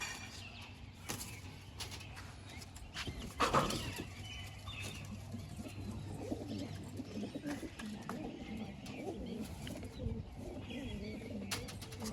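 Soft pigeon coos murmur faintly amid background noise and light rustling, with a brief flutter of wings partway through.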